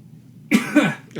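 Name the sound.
cough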